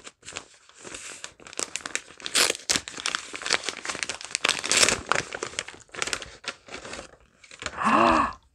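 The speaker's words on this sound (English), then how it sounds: "Crinkling." Packaging crinkles and tears as a gift is opened, with close, busy rustling bursts throughout. A short vocal exclamation comes at the end.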